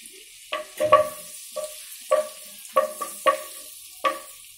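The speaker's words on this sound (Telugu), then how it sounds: "ఇవి వేసి కొంచెం వేయిద్దాం" Bay leaves, cinnamon and cloves frying in melted butter: a quiet background hiss broken by a series of sharp, spaced crackles and pops, close and without talk.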